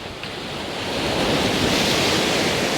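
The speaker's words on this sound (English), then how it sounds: "I'm just timing wave captures as they roll over and as they impact the foreground rocks down here" Sea waves at Talisker Bay roll in and break over large foreground boulders, a steady broadband roar that swells slightly louder across the clip, with wind buffeting the microphone.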